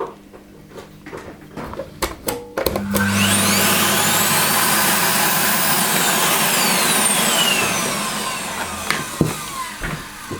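Electrolux Ultra Active vacuum cleaner, just back from a motor repair, switches on after a few clicks and knocks and runs loud and steady with a rising whine before winding down toward the end.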